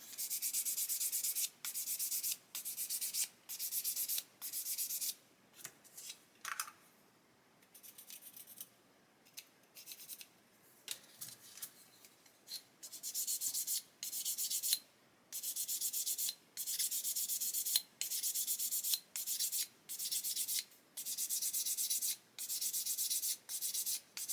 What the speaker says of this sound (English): Just keep sanding it until it's all nice and flush.